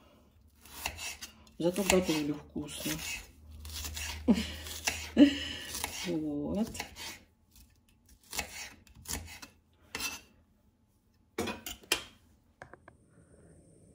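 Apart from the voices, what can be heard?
knife cutting vegetables on board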